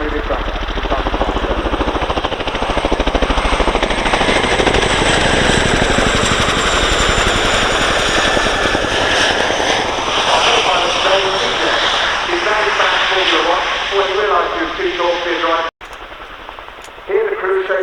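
A loud, sustained RAF Chinook helicopter roar at an air show display, with heavy rotor chop and engine whine, rising and falling in pitch as it maneuvers, briefly cutting out near the end.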